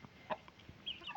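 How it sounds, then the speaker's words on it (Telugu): A Kodi Kaki Nemali chicken, a farm-raised country breed bird, gives a few faint, short clucks spread across a brief moment, with no talking. "ఇక్కడ కనబడుతున్నటువంటి ఇది కోడి కాకి నెమలండి"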